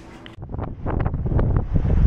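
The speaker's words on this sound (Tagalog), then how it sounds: "malakas ang hangin" Strong wind buffets and roars against the microphone in rising gusts outdoors after snowfall, with low rumbling bursts growing louder.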